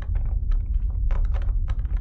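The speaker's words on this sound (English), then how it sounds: "I thought I was hearing a keyboard for a second." Computer keyboard typing: a close run of quick, uneven key clicks and taps lasting about two seconds over a low background hum, with no talking.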